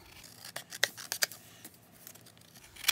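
Scissors snip through a paper journal card in a quick series of close, crisp cuts, faint and recorded alone.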